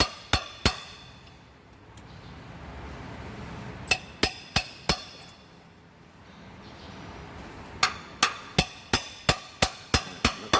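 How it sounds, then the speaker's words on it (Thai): Sharp metallic hammer strikes ring out in quick rhythmic clusters, slowly packing wet newspaper into a bearing in a Kubota M8540 hydraulic shuttle gearbox, separated by pauses with faint background noise; nearby and crisp. "ตอกไปช้าๆนะครับ"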